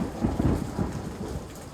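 Thunder rumbles low and heavy under a steady wash of falling rain in a storm, loud and close throughout, with no voices.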